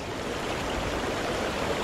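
Warm water flowing out of a power station outfall, a dense steady rushing roar of churning water, constant and close with no other sounds.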